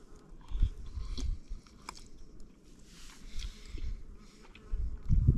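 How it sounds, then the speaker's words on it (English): Several bees buzz close by around food at a campsite, their drone rising and fading as they circle, with occasional soft thumps and rustles nearby. "The bees apparently really want this."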